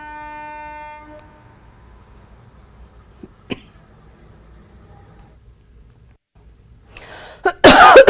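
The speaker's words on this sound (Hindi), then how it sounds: "ये ट्रेन हिमाचल की चढ़ाई नहीं चढ़ पाई और रास्ते से ही उसे वापस लौटना पड़ा।" A train on a Himachal mountain railway sounds a long harmonic horn blast at the start. A quiet stretch with a sharp click follows, then a loud rushing burst of rail noise swells near the end.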